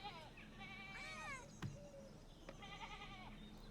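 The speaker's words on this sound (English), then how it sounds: "Always stop to pet the cat." Cat in the video game Pentiment meowing while being petted, several short rising and falling meows, one after another, heard beneath a person talking.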